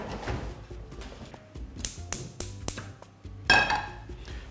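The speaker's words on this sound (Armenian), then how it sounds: "Տապակը հայտնվում է գազօջախին։" A frying pan is set down onto a gas stove, giving a series of sharp metallic clanks and taps, some close together, with a louder clatter near the end.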